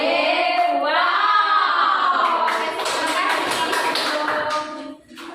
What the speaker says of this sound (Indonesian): kita tepuk tangan dulu untuk kelompok 1 presentasi yang luar biasa